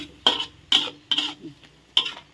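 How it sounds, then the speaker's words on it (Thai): Ginger being stir-fried for a Thai ginger chicken dish, with a utensil scraping the pan in four sharp, evenly spaced strokes over a light sizzle, close and clear with no talking. "ใส่ขิงแล้วก็ให้ผัดให้สุกจักน้อยนะจ๊ะ"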